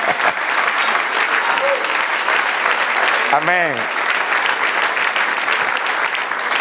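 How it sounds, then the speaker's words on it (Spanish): A large crowd claps loudly and steadily, and a single voice calls out briefly over the sustained applause. "Den un aplauso al Señor."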